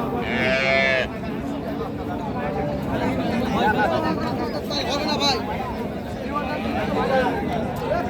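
A Sahiwal cow and calf stand at the Raniganj cattle market, with a loud close moo at the start over a constant babble of crowd chatter and people talking nearby.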